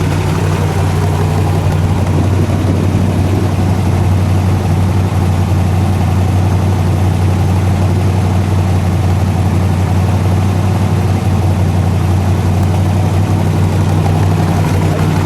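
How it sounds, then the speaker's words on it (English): A fuel-injected 1965 Chevrolet Corvette Stingray Fuelie with a 4-speed runs with a deep, loud, steady engine rumble. Strong low tones hold throughout the recording, with no voices heard. "Starting off in the ride in the 65 Fuelie, and I have to say, Jimmy, it really sounds"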